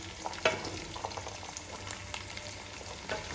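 Ginger fries in hot oil with mustard seeds and fenugreek for a mango carrot pickle, a steady close sizzle and crackle broken by a few stirring scrapes and pops, with no talking.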